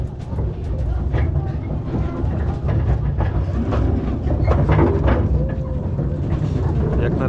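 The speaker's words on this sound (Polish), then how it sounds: "No i kolejka ruszyła," Tourist train wagons roll slowly on rails inside El Soplao cave in Cantabria, Spain, giving a loud, steady rumble with light rattling and clacking as people talk nearby.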